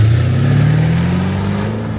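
A GM LT1 V8 with a 5-speed manual in a Series 3 E-type roadster revs loud and close, a steady low engine drone that rises slightly in pitch and holds for two seconds with no talk.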